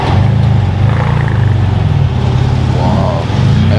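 A Ferrari 812 GTS engine rumbles loudly and steadily close by, a deep sustained drone with slight rises and dips throughout.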